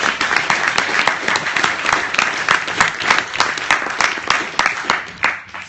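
A student debate audience gives a big round of applause, many hands clapping in a dense, lively wash that tails off near the end.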